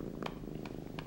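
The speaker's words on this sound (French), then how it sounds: "Il ronronne, ça veut dire qu'il est content." A cartoon kitten purrs softly and steadily, a low continuous rumble close by with a few brighter pulses rising over it, and no voices.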